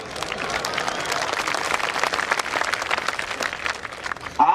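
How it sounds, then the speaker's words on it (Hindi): A conference audience claps through the whole stretch, a dense, steady patter of many hands, with a brief louder burst at the end. "आप जो तालियां बजा रहे हैं"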